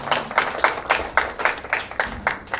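A church congregation clapping to encourage the worship team, around a dozen evenly spaced claps in a steady rhythm, moderately close and not very loud.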